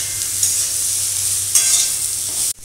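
Spices frying with turmeric, chilli powder and sugar in a pan for samosa filling, a loud steady sizzle with a couple of stirring scrapes, ending abruptly.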